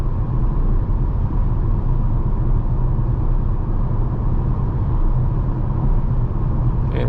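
Steady, loud cabin drone of a 2021 Volkswagen Arteon Shooting Brake 2.0 TDI cruising at highway speed at night, a constant low road and engine rumble with wind noise and no speech.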